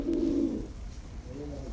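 Sialkoti pigeons coo on a rooftop, one low, resonant coo early on and a softer second coo near the end, close and clear over a quiet hum.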